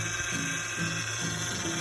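Car noise caused by low power steering fluid: a continuous whining, grinding drone with a faint pulsing wobble in the low end, steady and fairly loud throughout with no talk.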